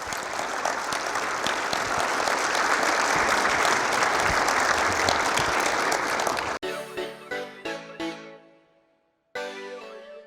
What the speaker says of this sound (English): Can we please give a round of applause for Mike Malero?